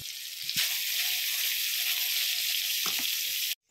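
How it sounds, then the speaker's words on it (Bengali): Eggplant slices sizzling in hot oil in a pan in a village kitchen, a steady loud crackling fry that starts abruptly, with a few stirring clinks, then cuts off near the end. "তাই বেগুনগুলো এবার ভেজে নেব"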